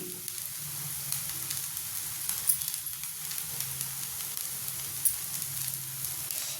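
An instant cucumber dosa sizzles on a hot pan after being flipped and brushed with oil or ghee. The sizzle is soft and steady, with scattered small crackles throughout.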